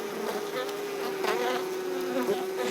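Bees buzzing steadily and close by, a continuous droning hum that wavers slightly in pitch as they move around.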